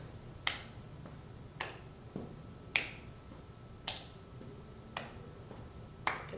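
Sharp hand claps land one at a time roughly every second as someone does high knees, clapping under each raised knee, with a faint low room hum underneath and no talking.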